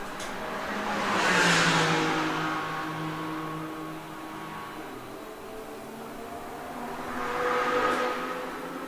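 TCR and BMW GT4 race cars at the Mugello circuit rush past in two separate distant pass-bys, each engine swelling then fading, with a steady engine hum between them.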